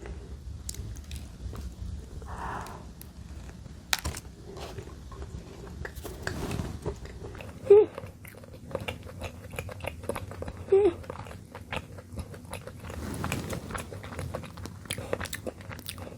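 Biting and chewing into a large mammoth bread pastry filled with jam, soft close-up crunches and squishy mastication running steadily throughout, with a couple of sharper bites standing out.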